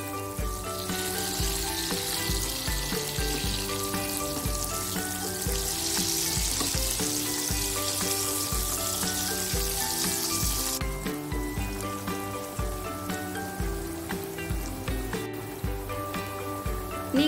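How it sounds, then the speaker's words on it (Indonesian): Tempeh sizzles loudly and continuously as it fries in hot oil in a home kitchen pan. A dense crackling hiss with scattered pops runs the whole time and eases slightly partway through. "saya lanjut ke goreng tempe ya."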